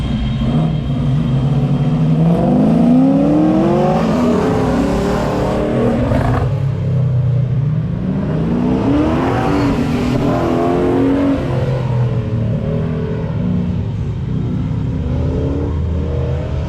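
Race cars at a road racing event roar past, engines rising and falling in long revving sweeps as they accelerate, loud and close, with waves of passes across the stretch.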